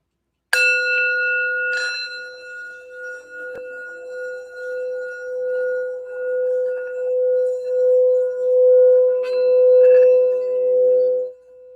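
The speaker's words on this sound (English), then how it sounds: "I wanted to start off with the sound bell just for a little bit of healing and to help focus us for the reading." A sound bell is struck once for healing before a tarot reading, giving a bright metallic strike that rings on as a long, steady, gently pulsing tone, close and alone.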